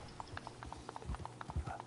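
Hooves of a horse in a western video game clip-clop at a steady walking rhythm, close and clear, with no voices over them.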